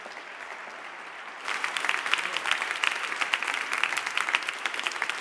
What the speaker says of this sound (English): You should really applaud that